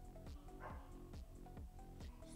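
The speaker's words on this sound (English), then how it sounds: "Why is she barking? My dog has been so naughty lately." A pet dog at home barks repeatedly in short, sharp yaps spaced through the moment, fairly close and loud against a quiet indoor background.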